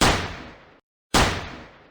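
Shotgun blasts from a first-person shooter video game, two loud booming shots, each decaying over most of a second, separated by a brief gap of silence.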